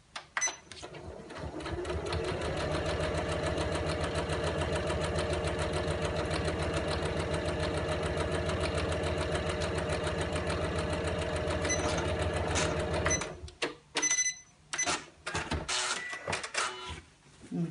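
A sewing machine sews a lined tote bag in one long, steady, loud mechanical run lasting several seconds, then stops, followed by a few short bursts and handling clicks.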